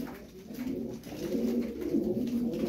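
Colourful Turkish game pigeons coo steadily in low, throaty rolling phrases, close and moderately loud, with no talk over them.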